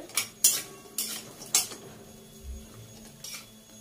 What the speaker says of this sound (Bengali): আমি একটু বড়িটা এরকম লাল করে ভেজে নিচ্ছি